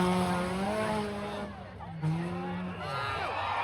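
Race cars roaring at a county fair race, engines whining and shifting in pitch as they run the final stretch of the last race of the night, loud over crowd noise.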